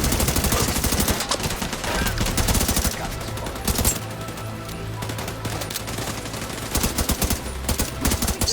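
Heavy gunfire from The Division 2 rattles in rapid continuous automatic bursts, loud and close, with a short lull midway and steady combat noise underneath.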